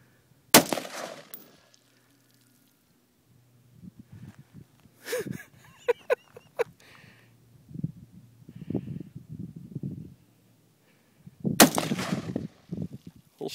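Gunshots fired at a pond ring out as two sharp, loud cracks several seconds apart, with quiet voices and small movement sounds between them outdoors.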